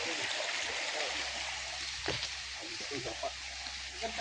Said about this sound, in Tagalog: At ito po ay mayroong buhay na tubig. Ayan, sapa.